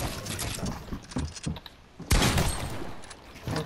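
Gunshots in Fortnite, a flurry of sharp cracks and bursts in irregular clusters, with a loud blast near the middle followed by further scattered fire.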